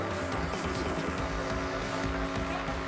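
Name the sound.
cars driving in a video game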